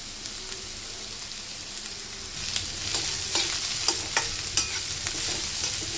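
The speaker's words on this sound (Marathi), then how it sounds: "सगळ्या भाज्या आपल्याला तेलामध्ये 5 मिनिटं अशा भाजून घ्यायच्या आहे फास्ट गॅसवर." French beans, cauliflower and other vegetables stir-fry in hot oil over a high flame for vegetable fried rice: a dense, hissing sizzle that grows louder partway through, broken by sharp spatula scrapes.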